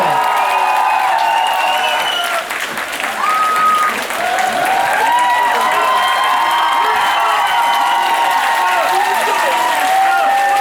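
A large audience at a charity concert of Ukrainian singers in Greece applauds and cheers steadily, with loud sustained clapping, whistles and shouts filling the hall for the whole stretch.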